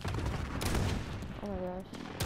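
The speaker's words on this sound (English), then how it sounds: "Be advised, friendly precision airstrike." Gunfire and explosive bursts from a precision airstrike in a shoot house first-person shooter game, dense and loud across the clip, with a brief tonal radio-style callout partway through.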